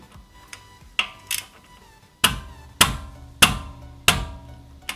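Lug nuts are tightened by hand in a crisscross pattern on a 2018-2019 Mustang GT wheel, heard as a series of sharp metallic clicks and taps, several spaced hits ringing out close and loud without speech.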